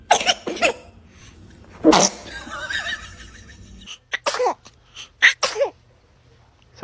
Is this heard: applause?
no